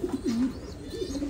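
Male domestic pigeon cooing close by, a couple of low rolling coos in quick succession with no talk.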